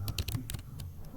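Quick keystrokes on a computer keyboard while entering a search into purchase-receipt software, a short run of sharp, close clicks in uneven rhythm.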